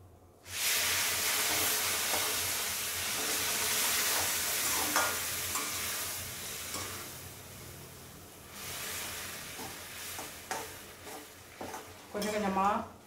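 Hot water poured into ghee-roasted rava for rava kichadi: a loud burst of sizzling hiss that settles into steady bubbling, with stirring scrapes against the pan; a voice speaks briefly near the end.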